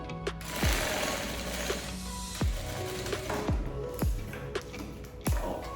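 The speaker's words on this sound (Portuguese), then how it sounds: "Já costurei ele aqui com o pezinho de máquina." Sewing machine stitching a bag lining with the presser foot, a continuous loud mechanical hum with repeated clicking and thumping pulses, close by and without speech.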